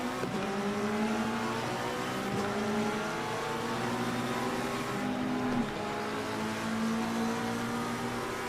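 Race car engines in Assetto Corsa Competizione at the Nürburgring, a steady layered drone of several engines with rising and falling pitch as gears change, loud and continuous throughout with no talking.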